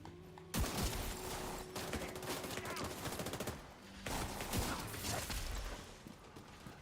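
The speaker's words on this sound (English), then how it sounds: "That's a hip fire right there." Rapid bursts of hip-fired gunfire in The Division 2 video game, dense and loud, with fast automatic volleys that pause briefly around the middle before resuming.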